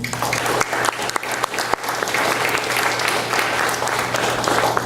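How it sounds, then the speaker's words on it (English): A crowd at a campus debate event gives a loud, steady round of applause that runs for the whole stretch, with a constant low hum in the room. "If we can get a round of applause for them."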